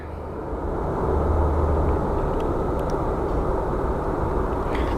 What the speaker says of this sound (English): Such a lovely freaking plane